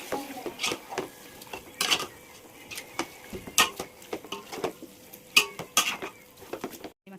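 A spoon stirs chicken biryani masala in a metal pot, scraping and clinking against the sides in uneven, light taps and strokes, close and moderately quiet with no talking.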